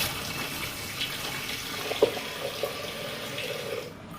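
Water runs steadily from a tap into dishes, a continuous splashing rush with a small clink partway through.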